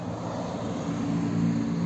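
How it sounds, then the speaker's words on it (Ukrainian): A 2007 Mitsubishi Outlander XL with a 3.0 V6 petrol/LPG engine idles smoothly and evenly nearby, a low steady hum with a faint rhythmic throb and no voices. "Автомобіль заведений, працює рівно,"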